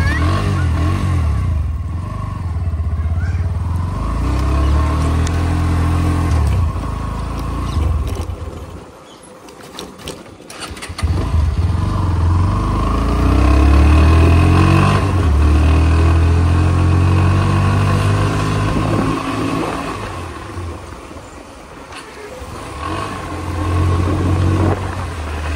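A Bajaj Pulsar NS125 BS6 motorcycle is ridden on a first ride, its engine loud and close, revving up and down through gears with a brief dip in the middle before pulling hard again, and wind and road rumble throughout.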